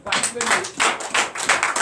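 A church congregation at a Sunday worship service in Comè, Benin, applauds in dense, steady waves of clapping, with voices mixed in throughout.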